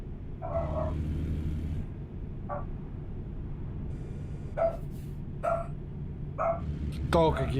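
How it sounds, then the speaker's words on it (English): A dog barks in a few short, separated bursts over a steady low engine rumble from an American Truck Simulator convoy game, fairly distant and moderate in volume, with a brief higher yelp near the end. "I'll mute while it's barking"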